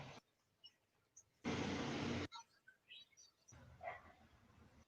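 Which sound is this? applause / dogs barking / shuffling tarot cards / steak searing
dogs barking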